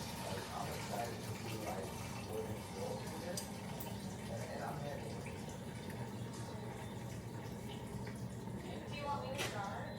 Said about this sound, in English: Drain the noodles, put them to the side until this cheese is all the way melted.